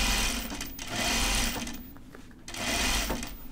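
A sewing machine stitches a Thea Rachelle raglan top, its motor running in two steady runs with a short pause between them, close and clear with no talking.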